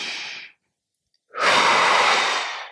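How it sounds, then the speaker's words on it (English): Two breaths sound close to the microphone during a yoga plank flow: a short exhale, a silent pause, then a longer, louder, sighing breath, with no talking. "Breathe, breathe, breathe."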